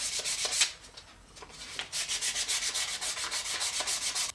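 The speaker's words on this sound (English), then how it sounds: "give each one of your pieces a light sanding" Rhythmic, close-up scratchy strokes of sandpaper lightly sanding wooden trivet pieces, quickening into a steady back-and-forth pattern.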